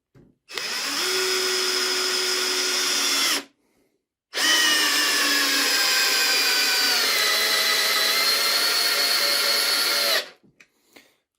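A Kaltmann K-WZP18V cordless screwdriver drives a large 8 mm by 160 mm screw, its motor whining steadily for about three seconds, pausing briefly, then running again at length under rising strain before stopping.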